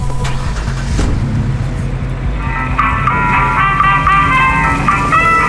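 A truck drives in the Watch Dogs video game, its steady engine rumble running throughout, joined partway through by a bright, repeating chime-like melody layered over the motor noise.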